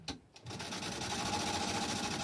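Sewing machine stitching leather for leather craft, a steady close mechanical whirr with rapid rhythmic needle clatter that starts after a brief pause and runs on continuously.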